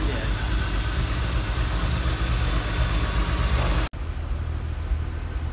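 BMW Z3 M Coupe engine idling steadily after its first start following restoration, a constant low rumble that cuts out briefly near the end and then resumes.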